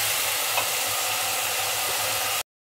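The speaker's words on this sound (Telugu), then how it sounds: "రెండు ఉల్లిపాయలు అయితే ఫ్రై అయినాయి కదా. అప్పుడు ఇందులోనే టమాటా ముక్కలు, మెత్తబడేదాకా ఫ్రై చేసుకున్నాము." Chopped onions and tomato pieces frying in a pan for a cauliflower and potato masala curry, a steady loud hiss and crackle that runs unbroken for a few seconds and then cuts off abruptly.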